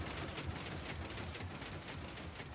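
An engine mechanism starts up in Minecraft, giving a steady, dense mechanical whirring and ratcheting clatter that keeps an even level throughout, with no voices.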